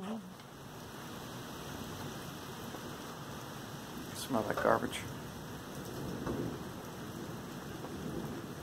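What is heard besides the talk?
rain falling on a driveway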